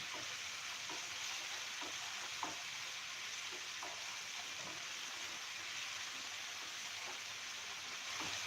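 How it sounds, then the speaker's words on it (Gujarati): Two large onions sautéing in a pan for a Gujarati vegetable dish, a steady close sizzle and crackle with faint stirring scrapes throughout, no talking. "ડુંગળીને આપણે સરસ રીતે સોતળી લેશું."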